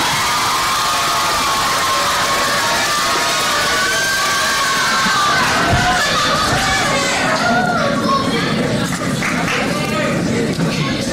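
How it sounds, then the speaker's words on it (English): A quiz bowl audience at a civic knowledge competition claps and cheers, a dense, loud wash of sound filling the room and swelling toward the middle before carrying on steadily. "how about a round of applause for the first round?"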